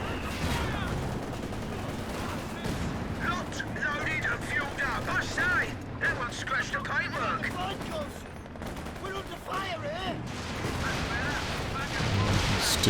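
Stuka dive bomber firing in Company of Heroes 2 amid a busy 2v2 battle, with sustained gunfire, machine-gun bursts and artillery rumbling continuously under a commentator's steady talk.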